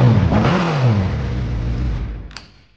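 A 23-year-old Suzuki Hayabusa motorcycle engine revs hard, close by, a loud rising and falling roar that winds down toward the end of the short burst.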